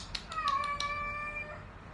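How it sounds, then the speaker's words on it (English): A cat meows several times in quick succession, close and fairly loud, with a drawn-out cry near the end. "Pusha, I told you she was the loudest cat ever"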